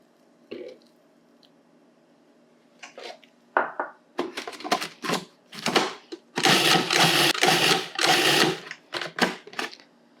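A food processor pulses vegan pie crust with melted vegan butter in short bursts, a few brief whirs at first, then a longer loud grinding burst followed by quick choppy pulses.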